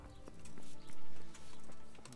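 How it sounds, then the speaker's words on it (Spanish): Horse hooves clip-clopping in the medieval video game Kingdom Come: Deliverance, a steady trot of close hoofbeats over loud game music and ambience. "Vale, mi caballo."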